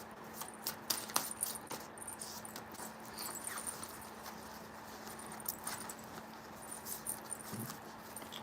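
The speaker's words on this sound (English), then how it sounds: "And then I'll shuffle 2 more times, and if anything flies out, we'll take that as well." Tarot cards being shuffled by hand, a dense run of soft riffling taps and flutters repeated over several seconds, fairly close and with no talking.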